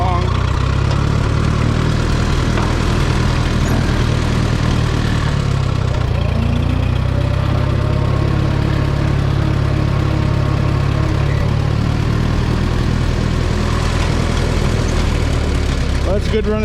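A Minneapolis Moline M5 tractor engine idles steadily and loudly up close, a deep continuous rumble with a mechanical chug, running evenly throughout.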